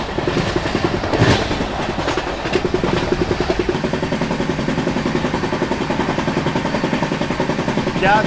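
A passenger train running at night past Bayana railway station in India, a loud continuous rumble with rapid rhythmic clickety-clack of wheels over rail joints, heard close from on board.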